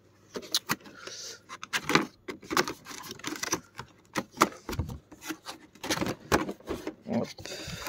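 Cardboard and plastic packaging rustle, tear and crinkle in a run of short, close bursts while an Ichiban Kuji Majin Buu figure box is opened, with no talking.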